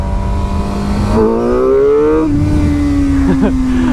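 A black 2016 Suzuki GSX-R 750 sport motorcycle accelerates hard in its sharpest power mode, the engine note climbing steadily in pitch through a gear before a shift, then revving on with a brief stutter, loud and close with wind noise.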